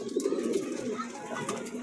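Black Bombai pigeons coo softly and steadily at close range, a low continuous murmur with a few faint chirps over light background noise.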